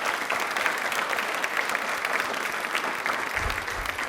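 Studio audience clapping for a contestant on a televised general-knowledge quiz show, steady dense applause held at an even level throughout, with a low rumble rising near the end.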